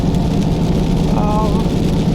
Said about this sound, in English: It's raining heavily today in Abuja, so I have to do this under this rain